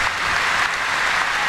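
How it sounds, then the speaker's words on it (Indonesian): Audience applauding at an Islamic religious gathering, a dense continuous wash of many hands clapping, loud and steady throughout with no talk. "Tepuk tangan sekali lagi buat beliau Kiai Haji Anwar Zahid"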